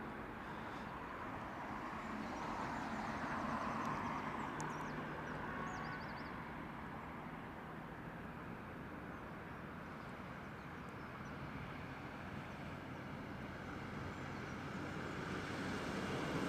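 A British Airways Airbus A380 airliner passes at Heathrow Airport as a broad, steady jet roar that swells gently and holds, distant and fairly faint, with no talk.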